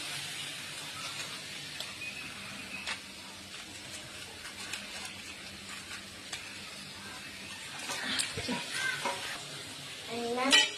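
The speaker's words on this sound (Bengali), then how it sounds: "তো আলুটা ভালো করে ভেজে নেব" Potatoes frying in a pan for a Maggi fry dish make a soft, continuous sizzle with occasional stirring scrapes, growing a little busier and louder toward the end.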